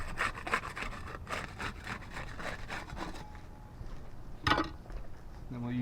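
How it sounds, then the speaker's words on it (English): A putty knife scrapes and rubs under a roof shingle to break its seal, giving faint rasping strokes in a quick rhythm with a sharper knock near the end. Speech can be heard faintly in places. "get started with the putty knife. We'll use that to unseal shingle 8 there"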